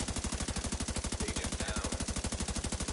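Gunshots in the video game The Division: a steady, rapid automatic burst of evenly spaced loud shots running unbroken for about three seconds, filling the whole clip.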